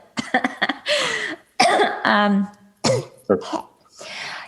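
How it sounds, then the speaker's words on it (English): A person coughs and clears their throat a few times in short, close bursts, with breathy vocal sounds in between. "hold on, I have to cough"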